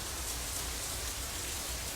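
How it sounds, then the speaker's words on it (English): Steady rain patters on an umbrella in a rainy visual novel game scene, a constant hiss of drops running evenly for the whole short stretch with no voices. "Raindrops hitting the umbrella make a distinctive sound, playing the staccato melody of rainfall for no one in particular."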